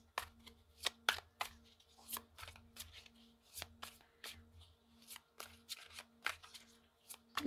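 Oracle cards being shuffled by hand during a tarot-style reading, a steady series of crisp riffling and slapping bursts repeating close up for several seconds, with no talk over them.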